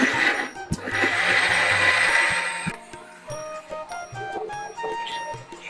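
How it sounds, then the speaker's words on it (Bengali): An electric blender whirs loudly through a cooked, cooled tomato sauce mixture for about two seconds, then stops, leaving clinks and rattles of the jar and lid. "ঠান্ডা হয়ে গেছে, এখন ব্লেন্ডার করবো। ব্লেন্ডারের ভিতরে দিয়ে দিলাম।"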